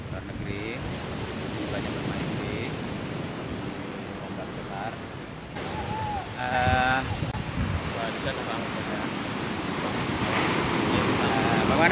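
Big ocean waves break and wash onto Kuta beach in Bali in a continuous roar, with wind buffeting the microphone and bits of voices and other sounds partway through. The surf grows louder toward the end.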